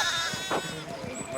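A sheep in the medieval village of the video game Pentiment gives a short wavering bleat, fairly close, against a soft game backdrop with no clear talk.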